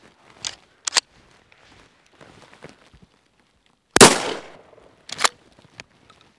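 A Remington 870 Tac 14 shotgun fires once at 10 yards, a single loud blast with a ringing decay, among quieter sharp clicks and handling noises at a shooting range.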